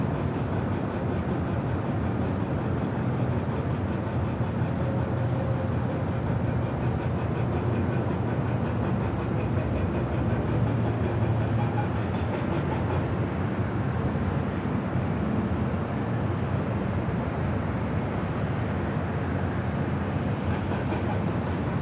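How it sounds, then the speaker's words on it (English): An Eva Air Boeing 777 taxiing across runway 25 left at Los Angeles International Airport, a continuous loud, broad engine rumble and roar that holds steady throughout, heard from a distance without any talk. "looks like Eva Air, the 777, actually crossing over 25 left."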